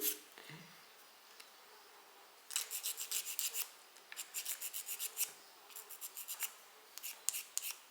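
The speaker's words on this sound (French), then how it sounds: "un coup de lime. Un coup de lime." Hand filing with a metal file on a garden house kit piece, heard as repeated rasping strokes in rhythmic bursts after a quiet start, fairly close and moderately loud with no talking.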